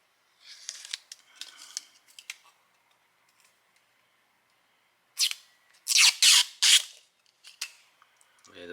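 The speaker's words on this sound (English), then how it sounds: "Don't forget to peel the protective tape off of there." Protective tape is peeled in short crackling rips off new LasFit LED pod lights for an F-150, several quick tearing bursts separated by quiet pauses, close and crisp.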